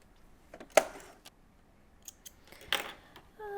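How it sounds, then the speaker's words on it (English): A couple of sharp metallic clinks and a light clatter, like scissors being picked up off a table, close and clear against a quiet room. "grabbing some scissors"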